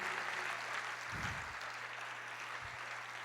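A church congregation gives brief scattered applause, a short burst of clapping followed by a quieter second patter, over a steady low hum.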